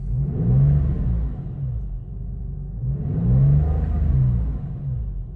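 A parked 1999 Porsche 911 (996) with a cold engine revved gently twice, each a smooth rumbling swell that climbs and falls back to idle, close and loud with no talk.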